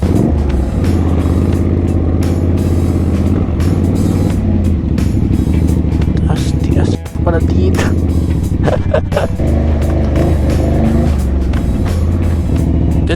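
Two-hour vehicle ride arriving in San Juan, Batangas: a loud, steady engine rumble with road noise throughout, a brief dropout midway, and voices talking over the drone.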